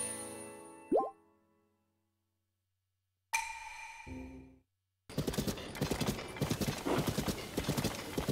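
Horse hooves clip-clop in a quick trotting rhythm in Zelda: Tears of the Kingdom, loud and close, following an earlier snort or neigh and a short silence.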